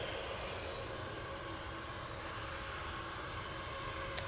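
A TUI airliner departing for Montego Bay roars steadily at a distance, a broad continuous engine rumble holding level throughout with no one speaking.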